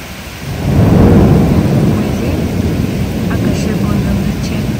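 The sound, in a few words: heavy rain with thunder at night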